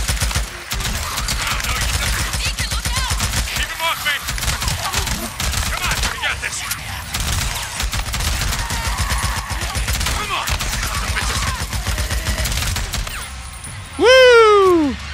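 RPD machine gun firing in the Days Gone video game, long rapid bursts of loud, close automatic fire running continuously, followed by a brief swooping tonal effect near the end.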